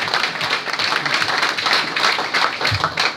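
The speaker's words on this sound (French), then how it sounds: "je vous remercie de vos applaudissements pour lui" An audience at a campus inauguration speech claps in a sustained, even wash of applause, moderately loud, with no talk over it.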